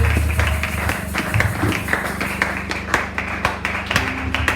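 A church congregation at House on the Rock claps and cheers to welcome the prophet Nathan Kungulu, with loud, uneven bursts of clapping and scattered sharp claps over music and a steady low hum.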